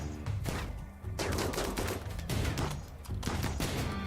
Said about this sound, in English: That's as I took an auto pistol shot